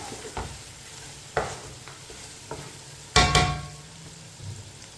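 Spiced masala for Eid meat rice cooking in a pan, a low steady sizzle broken by several sharp scrapes and knocks of a spoon stirring against the pan.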